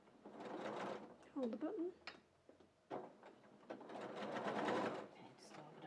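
A home sewing machine stitches fabric in short bursts of rapid, quiet mechanical whirring, stopping and starting between spoken instructions.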